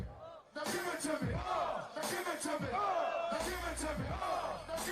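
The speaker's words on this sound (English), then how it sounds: "Like you can hear the crowd." A large crowd at a hip-hop concert roars and whoops, loud and sustained, with chanting swells and shouts rising and falling in waves.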